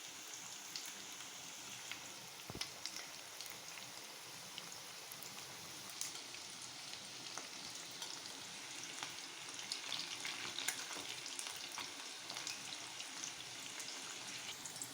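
Pieces of fish frying in a pan for fish chilli, a steady, faint, even crackling sizzle with occasional small pops, continuing unbroken with no voices.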